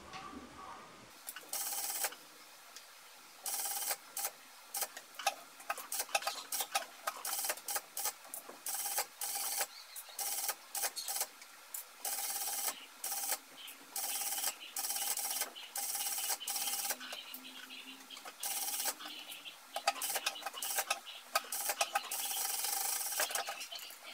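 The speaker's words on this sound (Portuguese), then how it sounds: "Agora eu venho costurando essa parte." A sewing machine stitches pajama fabric in repeated short, close runs of buzzing, rasping chatter, separated by brief pauses.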